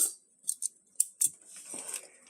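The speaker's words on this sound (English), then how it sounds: "And we'll cut open the bag." Scissors cutting open a plastic bag holding a steak, heard as a few quiet, sharp snips spaced irregularly, followed by soft crinkling of plastic.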